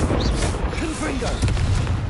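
A Confringo blasting spell explodes during a troll fight in Hogwarts Legacy, a loud dense rumbling blast that fills the clip, with a voice shouting over it.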